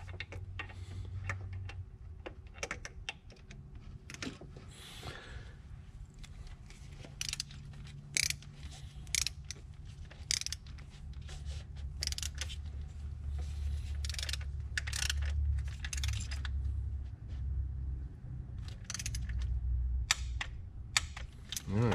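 Torquing down an intake manifold bolt on a Ford EcoBoost 2.0 engine, rapid ratchet ticks and clicks in quick strokes over a steady low hum from the workshop, close up with no speech.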